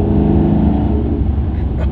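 Maserati GranTurismo MC sports car exhaust revving steadily and loudly from inside the cabin with the windows up, a continuous deep engine drone throughout.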